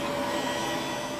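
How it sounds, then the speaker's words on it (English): A handheld heat gun blows steadily to thaw frozen water pipes, giving a constant, fairly loud whirring fan-and-air roar with a faint tonal hum and no pauses or talk. "This is a heat gun that provides a lot more heat than a hairdryer."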